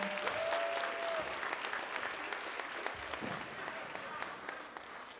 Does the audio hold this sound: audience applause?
yes